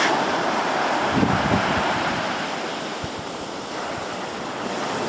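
Steady surf rolls in on an empty windward-side beach of an Exuma island in the late afternoon, a continuous loud wash of breaking waves with some wind noise on the microphone and no voices.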